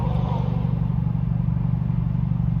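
A steady low engine rumble of a Ferrari accelerating through a freeway tunnel, droning continuously with a faint hollow, echoey quality.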